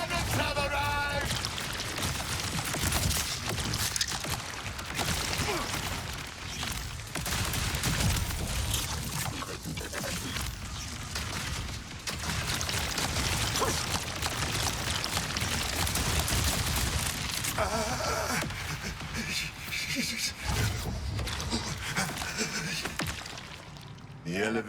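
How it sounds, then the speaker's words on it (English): Heavy cannon fire in the video game Borderlands 4, with loud booming blasts and dense crackling gunfire that keep up for the whole stretch in a thick, chaotic barrage. A voice cuts through briefly at times. "The cannons have arrived!"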